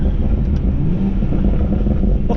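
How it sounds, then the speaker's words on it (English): BMW M140i with Stage 1+ tune blips its engine for a rev match, a steady loud rumbling rev lasting a couple of seconds with no voices over it. "I love the rev match."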